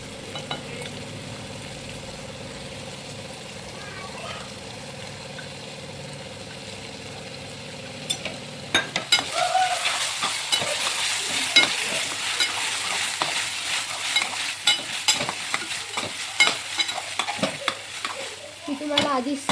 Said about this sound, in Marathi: आता आपण ह्याच्यामध्ये टाकणार आहे आपलं घरगुती वाटण.